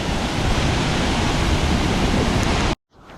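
Tat Kuang Si waterfall in Laos, heard from its base as a loud, steady broadband roar of rushing water that fills the scene and then cuts off abruptly near the end.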